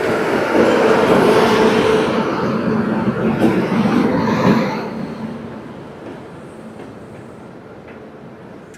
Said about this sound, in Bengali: আমাদের ট্রেন কিন্তু একদম রাইট টাইমে মালদা টাউন স্টেশন ছেড়ে একদম বারাণসীর জন্য কিন্তু বেরিয়ে পড়েছে।